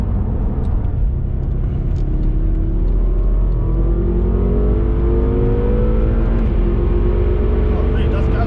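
BMW M5 Stage 2 with a 680 bhp V8 pulling hard under acceleration, a loud continuous engine drone rising steadily in pitch with road and wind noise, heard from inside the car.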